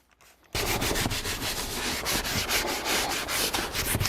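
A brush scrubs product into a leather car seat, giving a loud, close, rapid back-and-forth rubbing that begins abruptly after a brief quiet moment and continues in an even rhythm with no voices.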